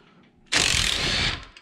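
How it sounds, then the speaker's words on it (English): A 1/4 inch Allen bit on an impact wrench breaks loose a bolt while replacing the brakes on a Scag Cheetah mower: one loud, dense rattling burst of hammering lasting under a second, close by and alone. "Take a 1/4 inch Allen wrench with an impact"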